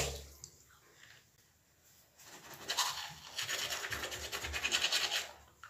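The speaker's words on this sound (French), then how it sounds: "je vais me brosser les dents avec ce dentifrice" Teeth are brushed with a toothbrush and toothpaste, quiet at first, then wet, rapid scrubbing strokes grow louder and rhythmic toward the end, close to the mouth.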